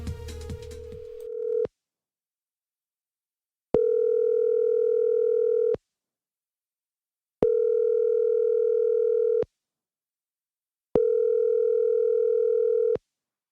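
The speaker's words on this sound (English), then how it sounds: "you're going to hear the phone start ringing" A telephone rings four times in a radio song intro after a brief snatch of music: clean, even electronic ring tones, each about two seconds long, separated by equal gaps of silence.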